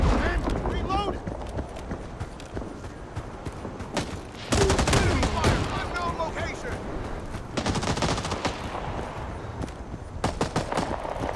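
Gunfire crackles through a Vietnam-era firefight in the video game Rising Storm 2 during an attack on the Hue MACV compound, rapid automatic bursts and scattered shots loud and close, with some heavy volleys, under shouted voices.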